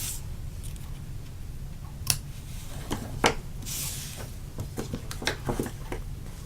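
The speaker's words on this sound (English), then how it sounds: "And then we'll just take our scissors and trim the ends off at an angle." Scissors snip the angled ends of a ribbon bow on a handmade stamped Christmas card, several short crisp cuts and rustles close by against a steady low background hum, with no talking.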